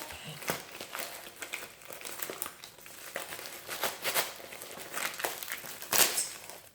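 A plastic diamond-painting pouch with a strong adhesive seal is pulled and torn open close up, giving a run of crinkly rustles and sharp ripping bursts that peak in one loud tear near the end.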